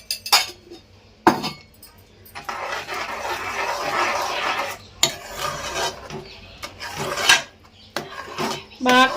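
A spoon knocks and scrapes around a metal pot as ghee goes into moong dal pongal with jaggery and milk, giving irregular clinks and stirring rasps, loud and close, with some talking mixed in.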